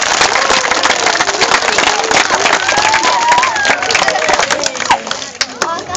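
Loud, close applause and crowd noise from a school audience cheering students who ran the Roparun for charity, with voices mixed in throughout the dense, continuous clapping.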